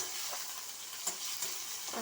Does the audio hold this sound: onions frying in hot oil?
yes